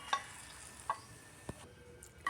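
Tamarind frying lightly in leftover oil in a pan after chillies were roasted, a soft, quiet sizzle with a few sharp clicks of a spoon turning it.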